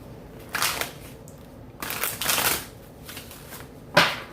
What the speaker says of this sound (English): I'm only going to shuffle it one more time